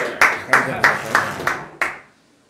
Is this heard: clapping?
yes